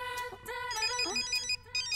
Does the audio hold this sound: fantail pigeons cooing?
no